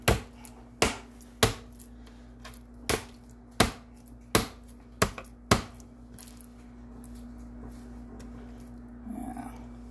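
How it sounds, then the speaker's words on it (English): Raw chicken breasts being pounded thin for chicken marsala: about nine sharp, close thuds land roughly every two-thirds of a second, then the pounding stops and only quiet kitchen noise remains. "of chicken breasts, and we're pounding them."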